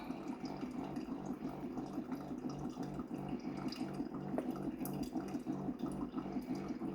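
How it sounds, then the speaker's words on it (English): A coffee pot brewing gives a steady trickling, gurgling stream of water with a faint rhythmic pulse, fairly quiet and continuous with no talking. "We got the pot set up to go brewing."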